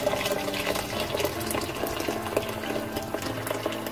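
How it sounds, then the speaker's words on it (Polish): Water splashes into a pot of minestrone soup with young cabbage in a steady, continuous stream, close and moderately loud without speech. "Dodam jeszcze wody."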